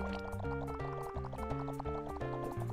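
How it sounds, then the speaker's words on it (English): Repeated bubbly, liquid popping tones from a player bubbling in New Super Mario Bros. Wii, set over bright, bouncy game music at moderate volume. "Why do I keep bubbling?"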